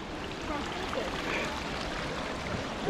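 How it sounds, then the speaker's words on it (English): A small waterfall at La Chorrera, Colombia, gives a steady, dense rush of falling water, loud and close, with faint voices mixed underneath. "The baby waterfall."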